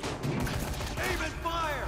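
Guns fire in the zombie video game Dead Rising 3 at Sunset High School, a short cluster of sharp shots with ringing tails, fairly close, mixed with other game sounds.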